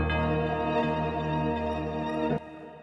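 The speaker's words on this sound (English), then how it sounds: "into the perk section, got the tubular bell" A tubular bell accent, shaped with EQ, delay and reverb, rings out as a sustained tonal chime for a couple of seconds before cutting off into a softer tail, alone and moderately quiet.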